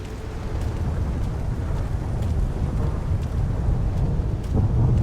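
Continuous low thunder rumbling with rain during a storm in the video game Stalker GAMMA, loud and steady throughout, with no talking.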